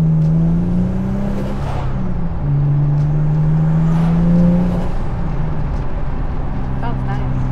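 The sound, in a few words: turbo V6 Honda with external wastegate, loud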